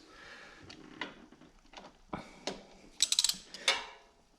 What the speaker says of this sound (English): I'm actually attaching it to an extension and putting it on a wrench, because you're not going to break these loose